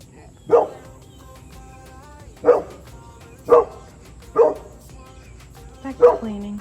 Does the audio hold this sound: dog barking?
yes